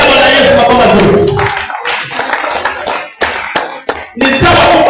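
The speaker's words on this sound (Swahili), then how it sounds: "Patia Bwana Yesu makofi mazuri" A church congregation at a Sunday service claps loudly together for Jesus in dense, sustained applause that thins into a few scattered claps near the end.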